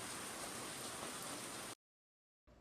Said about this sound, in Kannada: ಯಪ್ಪ, ಹೆವಿ ಬರ್ತೈತೆ ಮಳೆ ಅಂತೂ. ನೋಡಿ ಫುಲ್ಲು ಜೋರ್ ಮಳೆ.